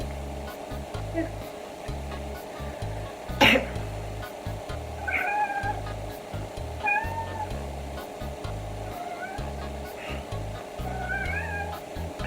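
Pet cats named Pippin and Bella meow softly several times indoors, short rising calls repeating every couple of seconds over a steady low hum of a fan or appliance, with one brief sharp knock partway through.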